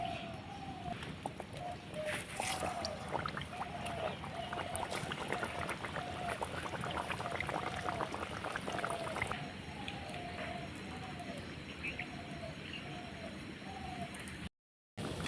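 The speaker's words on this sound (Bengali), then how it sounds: "তো তেলের মধ্যে ছেড়ে দেবো নাস্তাগুলোকে" Breakfast snacks deep-fry in hot oil in a wok, giving a dense, continuous crackling sizzle, while a dove coos repeatedly in the background.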